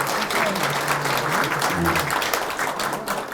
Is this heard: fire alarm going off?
no